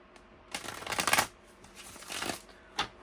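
Tarot cards are shuffled close by in several quick papery bursts separated by brief pauses, with no talking during the shuffling.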